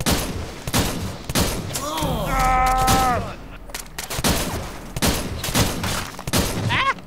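Rapid gunfire from a shotgun and other weapons in the video game Splinter Cell Blacklist: repeated sharp, loud shots in clusters across the clip, mixed with a wavering electronic alarm-like tone in the middle.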